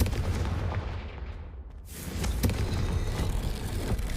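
A Confringo fire spell in Hogwarts Legacy erupts into a booming explosion in a dark corridor, with a sharp crack followed by a sustained, crackling roar, and no voices over it.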